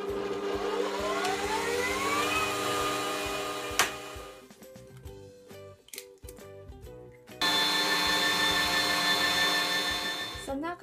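An electric mixer creaming butter and sugar for Ferrero Rocher cupcake batter at medium speed, a steady whirring hum that briefly drops into clattering and knocking before resuming at full, even volume.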